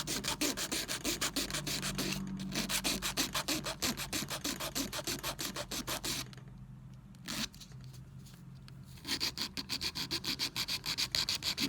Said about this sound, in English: the clamp definitely holds on tight with this, with all this filing that I'm doing